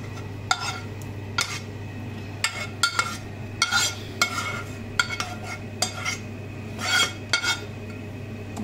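A vegetable sauté is stirred into a pan of pasta, with a utensil scraping and clinking against the pan in irregular strokes over a low hum and faint sizzle.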